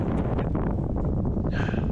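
Strong easterly headwind buffeting the microphone while cycling, a steady loud rushing roar with gusty swells throughout and no voices.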